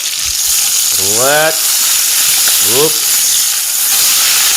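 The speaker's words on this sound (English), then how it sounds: "You can hear that beautifully searing in the background." Steady, loud sizzling of steak searing in butter in a hot pan, with a brief voice speaking over the hiss.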